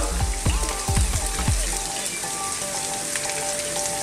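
Onion and chopped garlic sizzling in oil in a pan over very high heat: a bright, steady crackling hiss, with a few low thuds of ingredients dropping in at the start.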